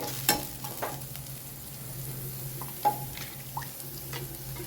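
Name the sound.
sautéing crushed onions and curry leaves in a pan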